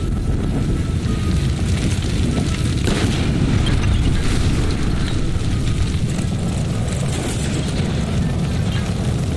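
A gas line explodes in the L.A. Noire detective game, producing a loud, continuous roaring rumble with crackling debris noise that fills the whole stretch without letup.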